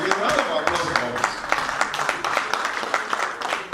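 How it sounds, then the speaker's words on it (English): An audience claps at a fifth-anniversary celebration of a community union in Ireland, a dense, steady wash of many hands applauding nearby for a few seconds, with voices mixed in. "Ladies and gentlemen, a round of applause for us."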